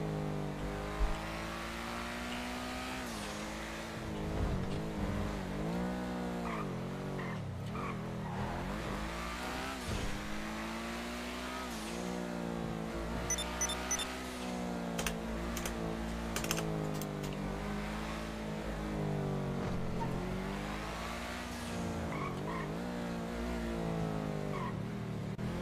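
Car driving fast in a GTA roleplay game, a continuous revving engine that rises and falls as it shifts and accelerates, with tire squeal and skids, loud and steady with no talk.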